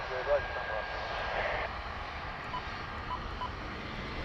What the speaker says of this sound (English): Reverser noise getting louder.